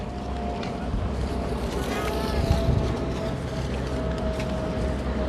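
A large boat at sea near the Bang Pu seaside resort, with the tide rising and dry wind, comes through as a steady broadband rumble and wind noise, with a faint whistle-like tone over the sea ambience.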